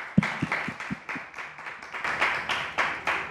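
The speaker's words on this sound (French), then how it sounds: "Vous pouvez nous applaudir." Scattered clapping from a small audience at a French-language talk show about cinema, a handful of sharp, fairly regular claps that build into a denser patter, close by with no voices.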